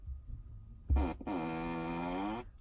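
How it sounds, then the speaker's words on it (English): A Tesla Model S 75D seat plays a novelty fart sound effect: a short low blurt, then a long, sustained buzzing tone lasting more than a second, loud and clear inside the quiet car cabin. "each seat can make a farting sound"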